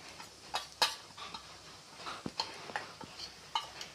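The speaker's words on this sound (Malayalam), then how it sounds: "നമുക്കിതൊന്ന് നന്നായിട്ട് ഇളക്കി കൊടുക്കാം" A spoon stirring roasting chicken masala in a pan gives a few faint, irregular metallic clinks and scrapes over a quiet background.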